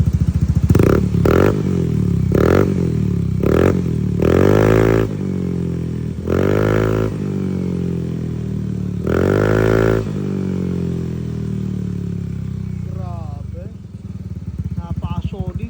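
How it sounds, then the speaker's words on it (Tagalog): Yamaha Mio i 125 scooter fitted with a KVIN pipe and no silencer, revving in loud repeated bursts of deep booming exhaust between idle, close up, with someone talking briefly near the end. "Ngayon, parinig naman natin na walang silencer."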